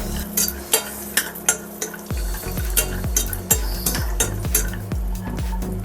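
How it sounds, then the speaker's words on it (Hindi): Cashews, pistachios and almonds roast in ghee while a spoon scrapes and knocks against the pan in a quick, regular rhythm of clinks over a light sizzle, close and fairly loud, with no speech. "काजू और पिस्ता बादाम को भी भून ले रहे हैं अच्छे तरीके से।"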